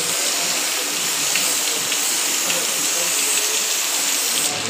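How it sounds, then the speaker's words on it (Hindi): Steady rain falling outdoors: a dense, even hiss that holds at the same level throughout, close and fairly loud, with no voices. "देखें जी बारिश कितनी देर है।"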